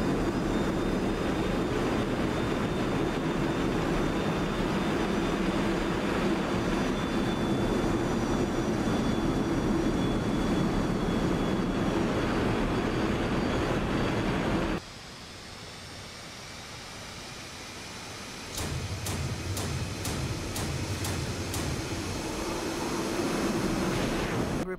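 Warplanes in the DCS flight simulator, a loud continuous jet roar that drops suddenly, then a series of sharp rapid bursts as the rumble returns.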